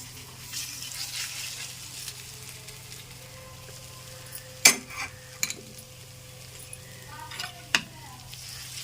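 Grated raw mango pickle is stirred and mixed in a pan, giving a steady faint sizzle with a low hum underneath. A few sharp clinks of a spoon against the pan stand out, and nobody speaks.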